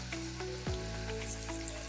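Chana dal masala vadas fry in oil at medium heat, a soft continuous sizzle over a low steady hum, heard close and fairly quiet for a moment with no speech.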